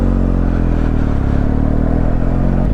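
BMW R 1250 GS Adventure motorcycle engine running off road, a loud steady boxer-twin drone close to the rider, holding a constant low rumble with slight wavering across the stretch.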